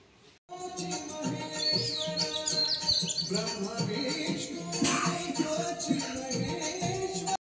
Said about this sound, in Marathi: पाखरांचा आवाज आणि किलबिलाट चालूच होती